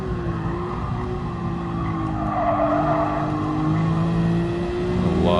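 A race car engine in GT Sport on PS4 holds a steady, loud, close droning note that dips and shifts slightly as the car slows for a turn, with tire squeal mixed in and no talking.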